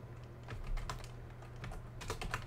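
Quiet, quick tapping on a computer keyboard as a short word is typed into a Minecraft server chat, several light key clicks in a brief burst.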